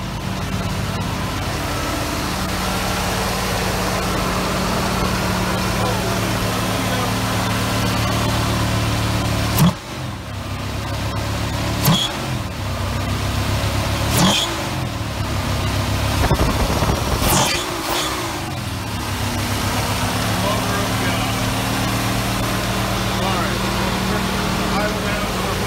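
A 1973 Gran Torino V8 fitted with Holley Sniper EFI idles loudly and steadily, broken by several quick blips of the throttle before settling back to a smooth idle.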